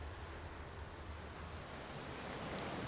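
Rain falling in the video game Skyrim, a steady, soft wash of broadband hiss that holds evenly throughout with no distinct drops or voices.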